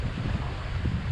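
Strong gusting wind at sea, roughly 20-plus knots, buffets a fishing boat, a low continuous roar of wind noise with no voices.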